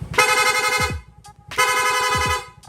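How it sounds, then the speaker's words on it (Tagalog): A loud aftermarket electronic rapid horn on a Yamaha Mio i 125 motorcycle blares in two long bursts, each a rapid warbling chain of honks, with a short pause between them. "Nag-install din tayo ng rapid horn"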